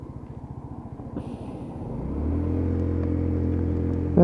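A Lexmoto Titan motorcycle with a fuel issue coasts in at the end of a ride test, its engine chugging at first and then settling into a steady, close idle hum that holds to the end.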